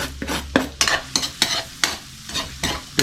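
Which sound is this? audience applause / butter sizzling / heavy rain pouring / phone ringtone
butter sizzling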